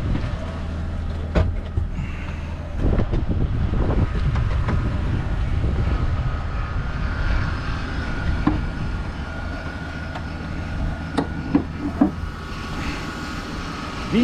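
Mercedes SLK 350 with a V6 engine idling with the hood open, a steady low rumble with a slight tick, heard close up and alone with a few sharp clicks.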